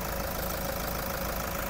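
A grey 2018 Toyota Commuter van with a 3.0-litre diesel engine idles, giving a steady, even, close rumble with fine rapid ticking and no voices.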